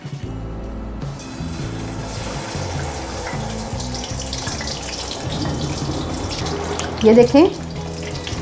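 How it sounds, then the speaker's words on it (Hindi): Marinated fish pieces sizzle in hot oil, a steady broad hiss and crackle close by, with a brief word spoken and a couple of louder pops near the end. "ऑयल हमारा गर्म हो चुका हुआ है। अब हम मछली के पीस आहिस्ता आहिस्ता ऐड करते हैं।"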